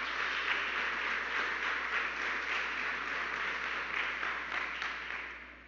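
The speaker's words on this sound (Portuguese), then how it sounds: "aplauda bem forte o nome de Jesus" Sustained congregation applause in a church, a dense steady wash of many hands clapping that holds evenly and fades slightly at the end, with no talk over it.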